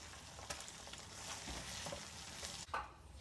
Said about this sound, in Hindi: लहसुन अदरक का पेस्ट इसमें फ्राई हो चुका है